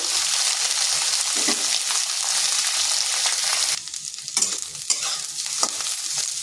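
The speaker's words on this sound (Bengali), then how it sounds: "কুঁদরিগুলোকে আমি হাই আঁচে একটু রান্না করে নেব।" Ivy gourd stir-fries over high heat in a pan, giving a loud continuous hissing sizzle that briefly drops and crackles as the pieces are stirred.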